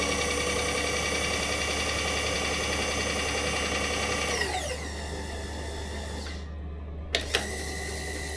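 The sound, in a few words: Bridgeport milling machine power feed running at full speed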